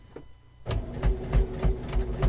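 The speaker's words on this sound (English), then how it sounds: "I'm sewing from one corner to the other corner." A sewing machine stitches fabric corner to corner along a box edge, starting after a brief quiet and running as a steady, rhythmic mechanical whir with regular pulses, close and clear.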